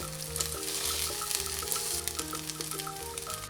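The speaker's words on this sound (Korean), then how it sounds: "조심스럽게 뒤집어 구워주세요" Steady, close sizzling of tuna patties frying in a pan, with faint background music and no talking.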